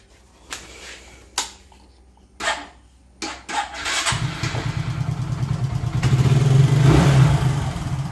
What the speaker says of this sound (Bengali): সুপার স্প্লেন্ডার সোয়ানা ইঞ্জিন গাড়ি দেখে নাও